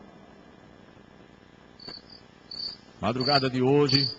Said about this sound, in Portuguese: grilo cantando, olha o grilo cantando aí